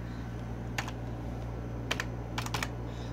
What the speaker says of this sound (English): then type in a password